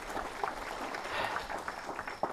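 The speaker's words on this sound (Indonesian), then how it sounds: "Yang percaya tepuk tangan dulu yang meriah bagi Tuhan." A church congregation at a revival service in Timor claps together, a continuous spread of hand claps with a few sharper individual slaps, heard fairly faintly and at some distance.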